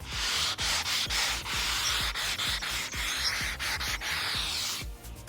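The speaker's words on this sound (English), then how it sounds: "we can emphasize it further by going over it again with the abrasive sponge" An abrasive sponge rubs over a chalk-painted wooden cabinet in quick, rhythmic strokes, making a loud, close scratchy sanding sound that repeats steadily and then stops near the end.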